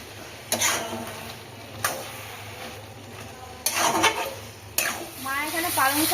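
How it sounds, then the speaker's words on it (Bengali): Flat beans fry in a pan, a constant sizzle broken by four sharp bursts of stirring and scraping, with faint talk in the background. "কালারের জন্য দেখো শিম ভেজে নিচ্ছে এক এক করে সবই তুলে নেবে"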